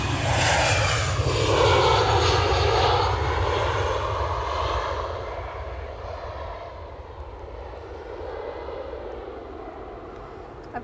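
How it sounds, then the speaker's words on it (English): Ryanair passenger jet landing at Edinburgh Airport, a loud steady engine roar that swells and then slowly fades as the aircraft passes, with no talk over it. "It's Ryanair coming in."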